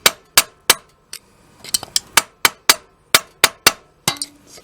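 A ball peen hammer taps metal on a bicycle motor drive gear in a series of sharp, ringing strikes, about a dozen in all, at a fairly steady pace and close by.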